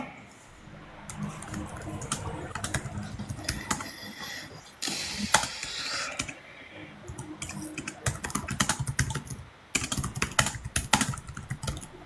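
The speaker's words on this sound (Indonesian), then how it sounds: "Tapi crispy banget keyboardnya." Fingers type steadily on a crisp, clicky laptop keyboard nearby, with quick irregular runs of sharp keystrokes and short pauses, and quiet talk faintly underneath.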